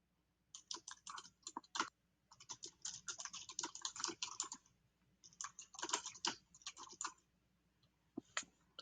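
Bursts of keystrokes on a computer keyboard as a note is typed into charting software, quick clattering runs broken by short pauses, close and clear with no talking.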